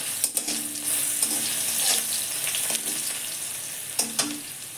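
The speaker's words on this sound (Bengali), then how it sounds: "এই কড়াতে মৌরি দিলাম, গ্যাসটা লো করে দিয়েছি।" Fennel seeds and grated ginger fry on low gas in a wok, giving a steady close sizzle broken by a few sharp scraping stirs.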